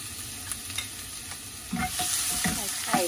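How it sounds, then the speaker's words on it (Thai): Pounded bird's-eye chili and garlic hit hot oil in a wok, bursting into a loud, steady sizzle and crackle of stir-frying that swells partway through and continues to the end, with no talking. "ใส่พริกขี้หนูกระเทียมตำค่ะ"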